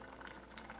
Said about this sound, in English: Don't start boiling away on me.